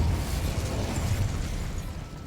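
A Depulso force spell cast in Hogwarts Legacy, a broad rushing whoosh-blast that fills the whole moment at steady loudness, dense and noisy without distinct separate hits.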